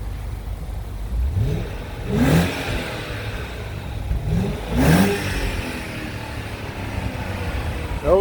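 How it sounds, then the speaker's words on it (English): A 1998 BMW 740iL engine revved twice in quick succession, each rise in exhaust note swelling and falling back to a steady idle between them, close and fairly loud with no talk over it. "You want to rev it up one time for me?"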